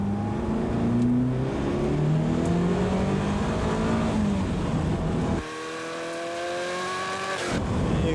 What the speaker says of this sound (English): You can see with the acceleration of the car, it's, and this is in wet conditions.